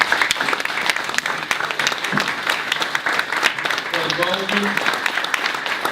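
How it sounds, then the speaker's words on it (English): An audience at a forum applauds its organiser, loud sustained clapping throughout with voices talking and calling out beneath it. "everybody should stand up and give him a round of applause for putting this together"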